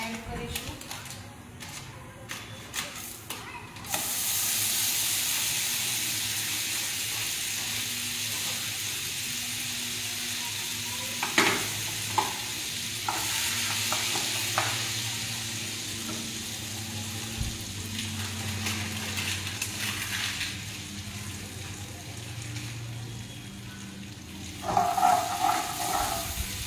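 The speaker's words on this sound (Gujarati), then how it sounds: "તો આ અમૂલનું જે બટર છે આમાં એડ કરીશું" Amul butter melts and sizzles in a pan for kaju katli, giving a steady frying hiss with occasional clinks and stirring, while a voice talks softly over parts of it.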